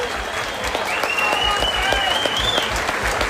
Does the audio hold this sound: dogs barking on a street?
no